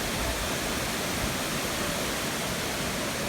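A waterfall tumbling over rocks roars as a loud, dense, unbroken rush of white water, close and steady, with no voices over it.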